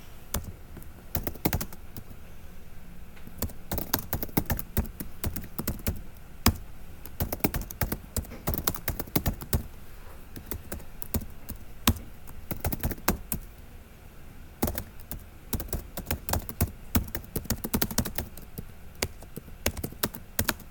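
Typing on a computer keyboard while writing code, with rapid bursts of close, crisp key clicks separated by short pauses, steady across the whole stretch and with no talk over it.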